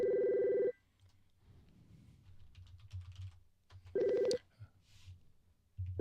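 A telephone ringback tone sounds twice, a steady electronic ring at the start and again after a few seconds, with quiet keyboard typing and faint low rumbles between the rings.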